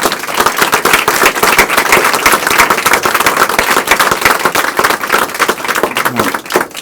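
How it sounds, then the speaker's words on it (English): An audience at a state legislative gathering gives loud, sustained applause, a dense crackle of many hands clapping nonstop for about seven seconds and fading slightly at the end. "please give them a round of applause for all of their work"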